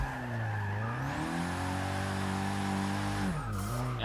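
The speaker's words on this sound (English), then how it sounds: "A pretty nice drift there." A Nissan Silvia Spec-R S15 drifting in Forza Motorsport 6, its engine holding a steady high drone while the tires squeal continuously, pitch sliding up and dipping near the end, loud and close.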